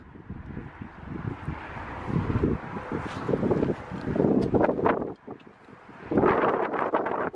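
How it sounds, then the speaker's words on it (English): Wind gusting through a tree-filled doorway on a countryside walk along the Kent coast, roaring buffets against the microphone that swell and drop in uneven surges with no talk. "This is a very windy doorway."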